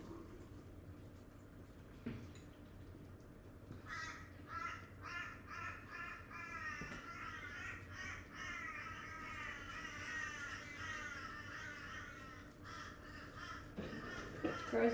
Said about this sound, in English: Crows are going wild today.